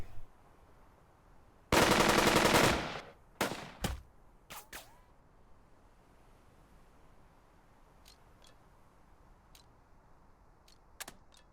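Gunfire in the WW2 leadership video game Burden of Command: a loud burst of rapid automatic fire, then several shorter separate shots, followed by faint scattered distant reports.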